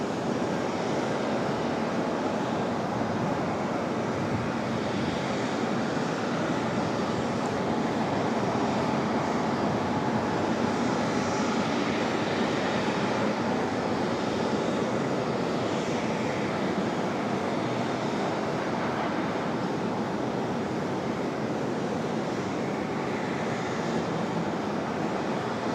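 Jet airliner taking off from runway 23 left at Raleigh-Durham International, a steady broadband engine roar held at a constant loud level throughout, distant and unbroken, with no voices.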